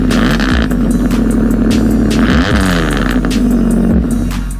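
A 1995 Chevy Camaro's six-cylinder engine, on a 49,000-mile repossessed car, runs at a loud, close, steady idle with a throbbing low rumble and faint intermittent ticking throughout.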